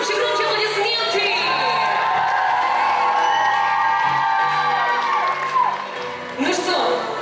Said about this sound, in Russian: Громче аплодисменты.